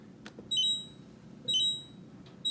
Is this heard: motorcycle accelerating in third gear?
no